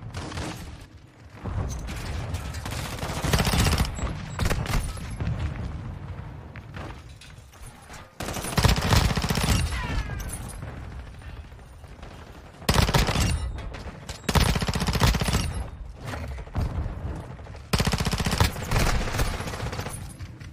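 Rapid automatic gunfire from a Fennec submachine gun in Modern Warfare II multiplayer, dense bursts of loud fire and game effects repeating in several long stretches with short gaps.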